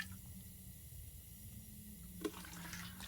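Water is scooped from a toilet in The Long Dark survival game, giving a soft watery slosh over a low steady hum, capped by a small sharp click.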